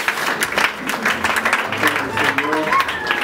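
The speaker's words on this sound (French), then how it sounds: "Est-ce qu'on peut acclamer le Seigneur?" At a funeral service, a congregation applauds the Lord with sustained, scattered clapping that mixes with voices and a few calls from the crowd throughout.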